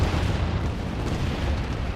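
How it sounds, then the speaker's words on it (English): Automated cannons firing and explosions in a space ship battle video game, a loud dense low rumbling roar of blasts blending together without clear breaks, no talk. "I also have these automated cannons that are helping me out"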